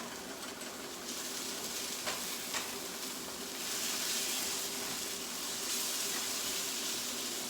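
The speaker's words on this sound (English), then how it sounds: "Let it fry up a little bit more." Spicy shrimp curry fries in a pan with a steady, close sizzle that swells louder partway through, with a few faint clinks and no voices.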